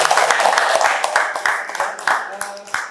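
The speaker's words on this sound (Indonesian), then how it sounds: "Kita beri tepuk tangan." Students in a classroom clap together after a discussion, fairly close, a quick run of sharp, uneven hand claps that trails off toward the end.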